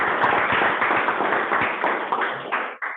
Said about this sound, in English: So let's clap for each other.